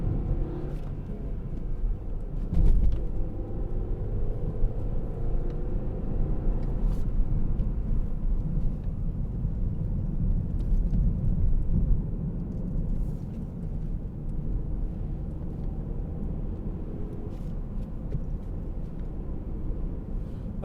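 A 2016 Volvo V60 2.0 T4 Business Edition gathering speed on the road, with a steady low engine and road rumble from inside the cabin and a few faint knocks, and no talking.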